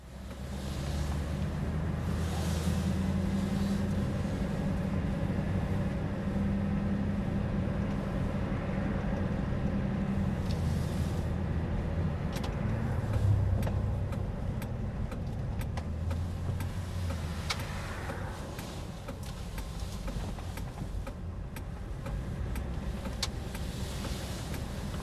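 Car driving along Main Street in Center Moriches on a January day, a continuous low road rumble and engine hum from inside the cabin, fairly faint, with a few shifts as it slows for a turn.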